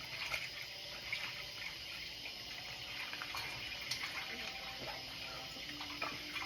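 Tap water runs steadily into a sink while someone washes their face with soap, a constant near hiss and splash with small bursts of dripping and no talk.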